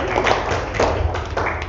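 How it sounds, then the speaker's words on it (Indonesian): A group of schoolchildren clapping hands together in a classroom, loud and close, with rhythmic bursts of claps rising in roughly three waves over a short span. "Kita tepuk tangan dulu ya"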